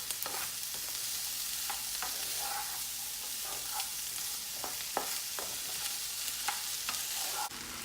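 Peppers for Pioneer Woman's meat pies frying in a pan on the stove, a steady close sizzle throughout with intermittent clicks and scrapes of stirring, no voices.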